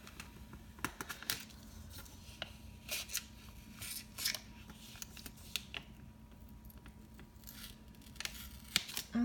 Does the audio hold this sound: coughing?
no